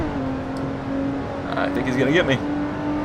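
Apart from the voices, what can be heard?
Shelby Cobra engine revving in video game Assetto Corsa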